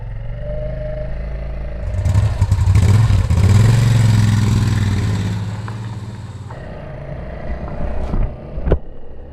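A carbureted motorcycle engine is warmed up at close range, rumbling unevenly, swelling into a brief rev, then dropping back to a rough idle with a few sharp clicks near the end.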